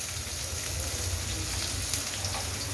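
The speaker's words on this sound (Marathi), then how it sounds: "आता हे जिरे मोहरी लाल झालं तर तळलं की कांदा टाकायचा." Onion drops into hot oil already crackling with cumin and mustard seeds for an ivy gourd (tondli) stir-fry, giving a steady, dense, close sizzle that holds at an even level throughout.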